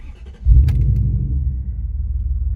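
2003 Dodge Dakota with a 4.7 Magnum V8 starting up: a brief crank, then the engine catches and settles into a loud, deep, close idle rumble.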